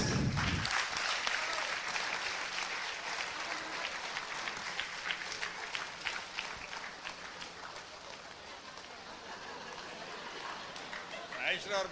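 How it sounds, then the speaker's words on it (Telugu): An audience at a public gathering breaks into sustained, dense applause that carries on for several seconds, with voices talking over the clapping and a fresh swell near the end. "Yes, claps."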